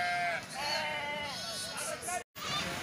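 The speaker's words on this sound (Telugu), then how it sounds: "సంతలోకి కట్ట వచ్చేసి గొర్రెలు వస్తున్నాయండి" Sheep bleat loudly and repeatedly at a large livestock market in Banaganapalle, Nandyal district, overlapping one another amid crowd chatter and babble, with a brief dropout near the end.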